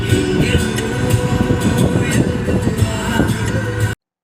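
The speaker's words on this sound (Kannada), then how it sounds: "ಇವಾಗ ನಾವು SMVT ರೈಲ್ವೆ ಸ್ಟೇಷನ್ನ ರೀಚ್ ಆದ್ವಿ" Trains rumble and clatter through SMVT railway station, a loud, continuous roar of rolling wagons with rhythmic wheel thumps and no talk, cutting off abruptly at the end.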